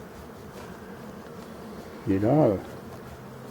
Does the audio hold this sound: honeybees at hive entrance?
yes